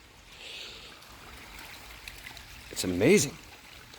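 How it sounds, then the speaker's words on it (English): Water flowing over rocks in a creek bed on the Erie coast, a soft, steady outdoor rush heard from a distance, with a voice speaking briefly over it near the end. "Can you hear the water?"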